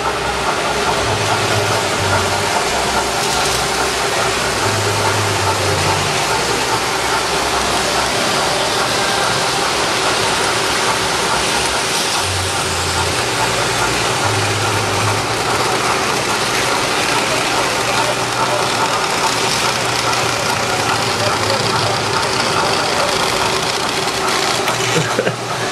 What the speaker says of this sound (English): So now I'm going to land this Santa Fe RS3 right there.